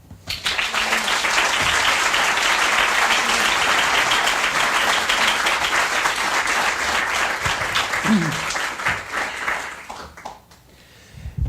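A large lecture audience applauds loudly and steadily as Ecuador's President Rafael Correa is welcomed, the dense clapping sustained for about ten seconds before fading out.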